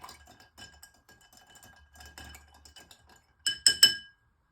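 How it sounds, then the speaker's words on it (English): A spoon clinks against the inside of a glass while a drink is stirred, producing a quick burst of bright chimes near the end after some quieter handling and rustling. "Again, stirring."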